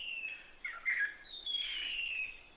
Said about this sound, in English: sometimes they will go over the top of the net to get to the bird call